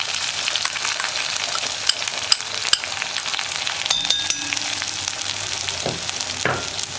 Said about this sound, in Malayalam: ഇതെല്ലാം ചേർത്ത് ഒന്ന് നന്നായിട്ട് ഇളക്കിയെടുക്കുക.